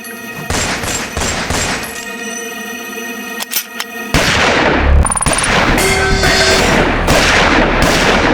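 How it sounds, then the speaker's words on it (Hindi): Gunfire in a crime drama scene from the Crime Patrol series: a few scattered shots, then a loud, dense barrage of rapid shooting that keeps going until the end. "ये सबको गोली मार रहा है।"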